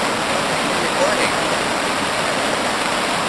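Walker River water rushes in a steady, dense broadband roar that holds unbroken and close for the whole stretch, with no voices over it.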